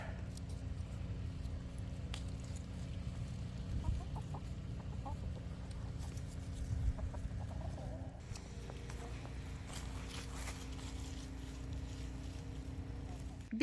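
A rooster and hens cluck softly in a farm setting, faint and scattered over a steady low background hum, with no clear crowing.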